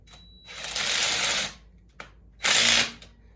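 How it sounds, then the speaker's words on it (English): A screw gun fitted with an Allen bit whirs in two short, close bursts while tightening a bolt on a Rocky Berg chopper bike, separated by a quiet pause and a small click. "grab our screw gun over here with this Allen wrench on it. And we'll just tighten her down."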